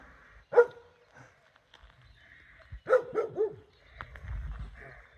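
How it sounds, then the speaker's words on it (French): A dog barks at passing hikers on a countryside walk, giving one sharp bark and then a quick cluster of barks and yips a couple of seconds later, fairly close, with faint footsteps and rustling. "un chien qui est pas content de nous voir"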